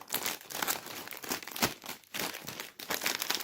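A Lulu Puffs snack bag is being opened, giving loud, close crinkling and crackling plastic in repeated rough bursts, with a tearing edge.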